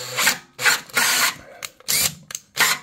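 A handheld power drill bores out a pilot hole with a larger bit on a mini skid steer during a filter addition, running in several loud, close bursts of whirring and grinding separated by short pauses.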